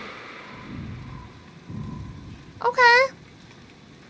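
Steady rain with low rumbles of thunder in the stormy coastal weather of the video game Dragon Age: Inquisition, a wash of downpour with two soft rolls, ending in a brief bright chime-like effect; a voice speaks once briefly.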